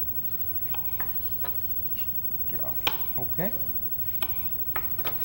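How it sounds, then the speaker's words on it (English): Knife slicing vegetables on a cutting board for a summer salad, irregular soft taps and scrapes at close range, with people talking quietly in between. "And then you just want to make some small slices on them."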